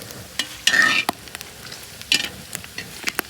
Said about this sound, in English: we're gonna let them go in that hot grease right like that. Stir them a little bit.